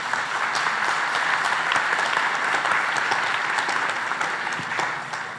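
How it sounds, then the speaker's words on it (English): Sustained applause from a conference audience in a hall at a developer event, a dense steady wash of many hands clapping that holds evenly throughout and tapers slightly at the end. "big applause for Duchin"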